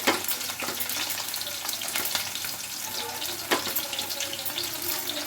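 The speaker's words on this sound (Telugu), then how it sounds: "ఇప్పుడైతే ఆనియన్స్ ముక్కలు వేసుకుంటున్నా అండి" Chopped onion pieces fry in a hot pan for okra curry, a steady close sizzle broken by a few sharp clinks and scrapes of a spoon, with no voices.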